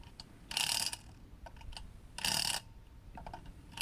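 A ratchet or impact tool snugs the lug nuts on a Nissan Altima wheel in a star pattern, giving two loud clicking bursts with quieter clicks between, heard close with no voices.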